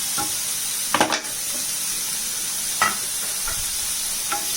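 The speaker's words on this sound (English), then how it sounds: "the vegetables are sauteing now" Vegetables sautéing in a pan for a vegan paella, a steady faint sizzle with a few brief stirring clatters from the pan, no talking.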